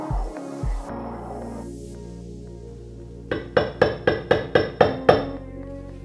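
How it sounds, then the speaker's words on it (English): Hammer blows smashing frozen tissue in a lab, seven sharp metallic strikes in steady rhythm, close and loud, following quieter handling clatter. "So with a hammer, we will smash once, twice."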